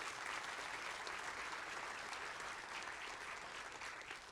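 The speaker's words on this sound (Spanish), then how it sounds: "Dele un fuerte aplauso a Dios por eso" Sustained applause from a church congregation during a sermon, a dense, steady wash of many hands clapping at even volume throughout, with no voices standing out.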